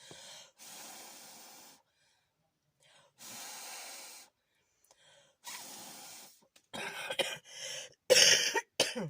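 A person breathes heavily and gasps, then coughs several times in harsh bursts, growing louder toward the end.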